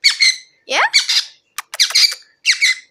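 A pet parrot lets out a series of loud, close squawks and raspy screeches in several short bursts separated by brief silences, with no human voices.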